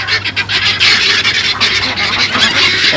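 Farm ducks call and honk together close by, a dense, raspy, continuous chorus of overlapping quacks with no pauses.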